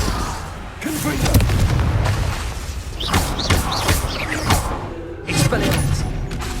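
Confringo fire spell bursts in Hogwarts Legacy, a string of booming blasts and thuds mixed with spell effects and voices shouting incantations during combat.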